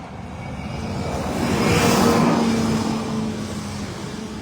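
Traffic stuck in a roughly four-mile jam on a road in the United States, a vehicle passing close by swells to a peak in the middle and then fades back into a steady background drone.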